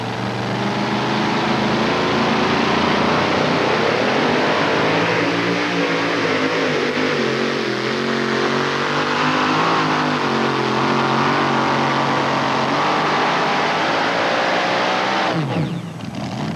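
A 1989 pulling truck, a 23 T model, roars at full throttle through a run in the 6,200-pound class at a Columbus, Ohio pull, loud and sustained for the whole stretch.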